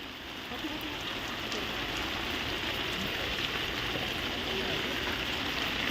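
Rain falls steadily on a farm as a dense, even patter and hiss that holds level throughout, with a voice speaking faintly beneath it.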